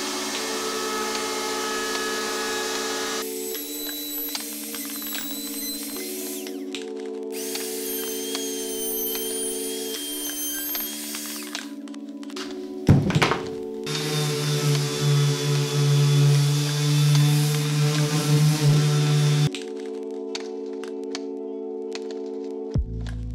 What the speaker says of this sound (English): I'm gonna go ahead and route the edges of this now, just using a round over bit.